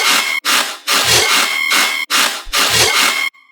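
Heavy dubstep riddim bass, loud and gritty, chopped into rhythmic bursts with short gaps and a grooving pattern of low thumps beneath a harsh, buzzy top, playing alone.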